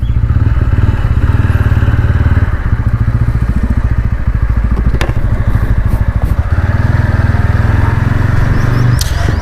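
A TVS Ronin 225 motorcycle engine runs under throttle, a loud continuous thumping drone close to the rider with rhythmic pulsing and slight rises in pitch.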